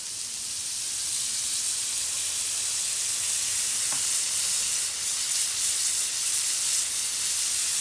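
Marinated vegetarian shrimp and croissants sizzle on an Arteflame grill, a steady, hissing crackle heard close and even throughout, with no talk over it.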